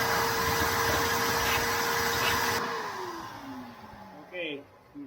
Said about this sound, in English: Now this is where your little shop vac comes in handy.